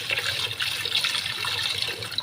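Hot water pours steadily into a cooking vessel for rice, a close continuous splashing trickle with a hissing, bubbly texture.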